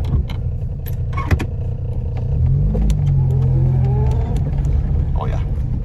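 A Yugo car engine runs steadily with a low rumble, then rises in a brief rev near the middle before settling back, heard close up throughout the clip.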